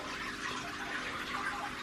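Small waterfall in a turtle tank, a steady soft trickling splash of falling water, continuous and fairly faint.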